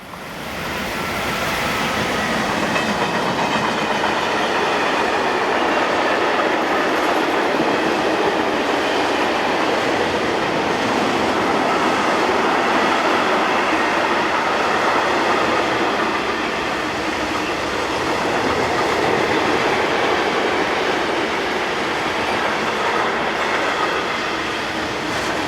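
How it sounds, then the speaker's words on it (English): A Class 185 electric locomotive hauls a mixed freight train from Köln Gremberg yard toward Oberhausen-Osterfeld, a loud continuous rumble and rush of wagons rolling past close by, steady throughout with no voices. "In the opposite direction we see 185389, working this mixed freight from Köln's Gremberg yard to Oberhausen-Osterfeld."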